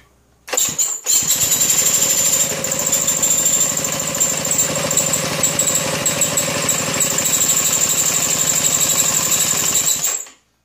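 A 1932 Maytag hit-and-miss engine cold starts with a sudden cough, then runs loud and close in a fast, even chugging beat for about nine seconds before cutting out abruptly.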